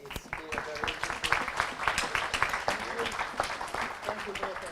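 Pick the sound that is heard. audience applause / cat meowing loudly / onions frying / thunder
audience applause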